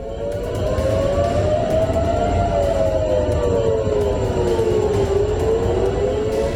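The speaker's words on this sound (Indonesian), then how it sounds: "Sirine juga meraung di kota Tel Aviv." Air raid warning siren wailing across Tel Aviv, a continuous undulating tone that climbs and dips slowly in pitch, loud and sustained over a low ambient city rumble, with no voices.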